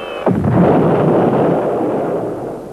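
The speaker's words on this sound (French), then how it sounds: "Accroche-toi, Fluffy, ça va faire boum." A cartoon explosion from the French animated series Robostory: one sudden, loud boom with a falling whoosh, then a long rumbling roar that slowly fades.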